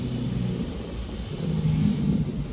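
A yellow car pulls away with a low, steady engine rumble that swells slightly toward the end, heard from a moderate distance with no talking.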